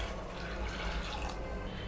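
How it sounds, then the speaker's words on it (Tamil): Water pours into a cooking pot holding soaked green gram lentils and peanuts, a continuous splashing, trickling stream heard close up, with no talking. "தண்ணி மூழ்கிற அளவுக்கு நான் ஊற்றிக்கிறேன்."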